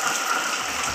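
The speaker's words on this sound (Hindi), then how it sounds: "देखो बारिश इतना ज्यादा बरस गया" A dense, steady hiss of heavy rain pouring down, loud and unbroken.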